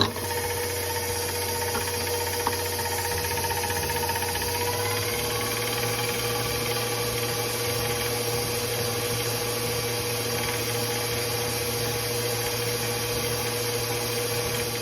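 Electric mixer whirring steadily as it beats batter after two eggs are added for gorditas de nata, a constant even drone with no pauses throughout.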